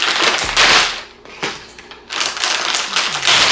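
A sealed plastic bag around a pair of Kobe 4 Protro sneakers being peeled and torn open, with loud close crinkling and ripping in two bursts separated by a short pause.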